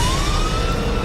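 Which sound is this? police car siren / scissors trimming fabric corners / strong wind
police car siren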